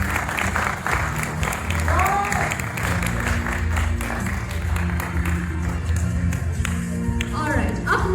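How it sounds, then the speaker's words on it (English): An audience at a church VBS fashion show applauds steadily for several seconds, a dense wash of clapping, while a speaker's voice carries on over it. "Let's give them a round of applause."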